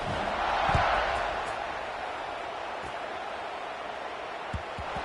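A football stadium crowd roars in a broad, steady wash of cheering that swells early and then holds beneath a commentator's voice, with a few dull thumps scattered through.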